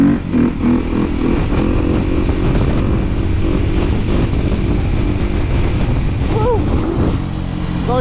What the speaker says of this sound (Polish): motocykl przestał przyspieszać